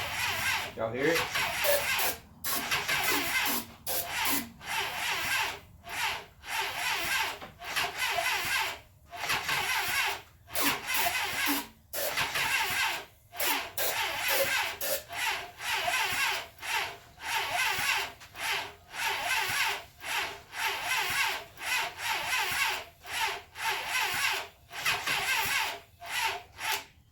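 The old starter on a 1980 Honda CB750F motorcycle cranks the engine in repeated long grinding bursts with short pauses, a steady rasping whir that never catches.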